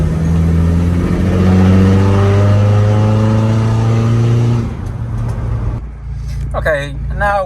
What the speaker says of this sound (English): So fourth gear, foot right down,